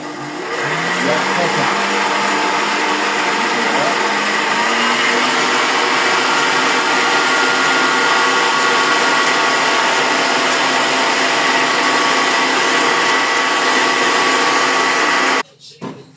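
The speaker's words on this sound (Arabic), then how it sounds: "غادي نهود الباطور ديالي، غادي نخليه نضرب" An electric hand mixer beats cake batter in a bowl, a loud, steady motor whine and whir running nonstop for about fifteen seconds before cutting off abruptly with a few clicks.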